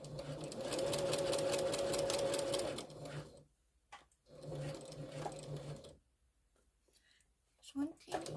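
A sewing machine stitches a Japanese rice bag in bursts: a loud, steady mechanical whir for a few seconds, a pause, a shorter run, then near silence with a faint click at the end.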